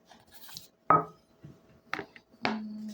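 A ceramic plate is handled in a home kitchen, giving a few sharp clinks and knocks, one near the start and two more near the end, loud and close in an otherwise quiet room.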